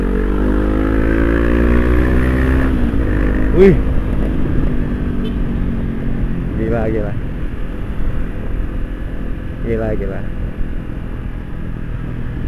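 A Honda CB500X motorcycle on a test ride, its engine droning steadily and changing pitch as it climbs through the gears, heard close from the rider's position while the rider exclaims over it.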